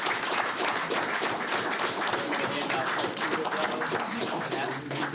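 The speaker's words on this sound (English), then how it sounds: "Let's have a round of applause." Applause for newly welcomed board members at a school board meeting, a steady dense patter of clapping from the room throughout with some murmuring underneath.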